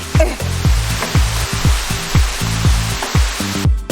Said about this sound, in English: This is the Chenku Waterfall.